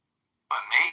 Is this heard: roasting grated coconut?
no